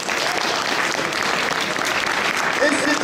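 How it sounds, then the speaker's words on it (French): Sustained, loud audience clapping at a cosplay contest for a group-category entry runs unbroken throughout, with a voice talking over it near the end. "C'est chouette, on peut les applaudir."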